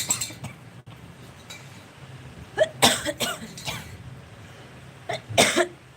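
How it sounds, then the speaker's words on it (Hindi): A few sharp coughs close by, in two short clusters, over a quiet room with faint background hum. "खांसी आने लगी, मौसम थोड़ा ठंडा हो गया है ना"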